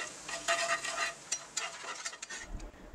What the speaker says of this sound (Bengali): এবার এই মশলাটা ভালো করে ভেজে নেব।